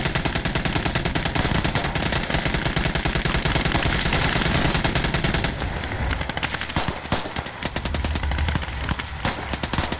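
A .50 calibre machine gun in the WWII strategy game Gates of Hell rattles in a long, loud, continuous burst, its rapid repeating shots thinning toward the end amid battlefield noise.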